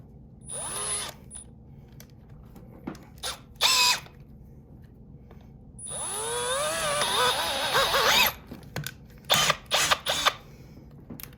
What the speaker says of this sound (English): this drill is not working too well